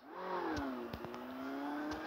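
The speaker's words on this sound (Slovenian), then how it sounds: "Gremo z motorjem." In Call of Duty Mobile, a motorcycle engine revs with a rising, then steady whining drone, moderately loud, with a few faint clicks over it.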